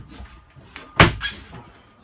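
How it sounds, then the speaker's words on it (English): A teak louvered companionway door on a Hunt Harrier 25 MK II sailboat swings shut with one close, sharp knock, followed by a softer rattle and a fading settle. "Companionway comes with a nice teak louver door."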